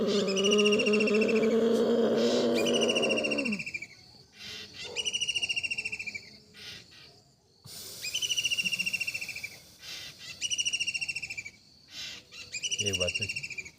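A human voice imitates a pigeon's cooing during ujjayi breathing in a yoga session, a low sustained hum for several seconds before fading, while small birds chirp repeatedly in the background.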